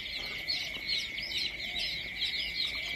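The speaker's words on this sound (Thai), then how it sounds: "ลูกไก่พันไข่เลี้ยงไว้กินไข่" A crowd of laying-breed baby chicks, roughly eight hundred in stock, peeps continuously in a dense, high-pitched chorus of overlapping chirps, steady and fairly close, with no voices.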